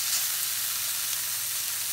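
Flour-dredged bear chops sizzle and fry in a pan, a steady dense crackling hiss with no pauses, close and fairly loud throughout.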